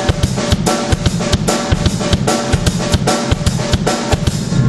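Drum shuffle groove in the style of a rock song, a steady, loud swung beat of kick, snare and cymbal hits repeating evenly and close up, with no talking over it.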